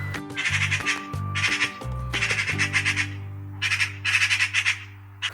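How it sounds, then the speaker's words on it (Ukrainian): Harsh, rasping chatter comes in several noisy bursts, a loud magpie squawking close by over a steady low hum. "Сорока стрикоче."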